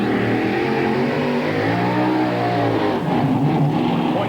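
A 1993 NTPA 1800 mini modified pulling tractor revs hard at a Scribner, Nebraska tractor pull, its loud engine holding a steady, strained roar with a brief dip and surge near the end.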